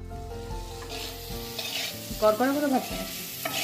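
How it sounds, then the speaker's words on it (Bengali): Pieces of taro sizzle in hot oil in a kadai with salt and turmeric, stirred with a few scraping clinks over a steady frying hiss, close and clear with no talk. "তেলটা গরম হয়ে উঠলে মানকচুটাকেও লবণ আর হলুদ দিয়ে হালকা করে ভেজে নিচ্ছে"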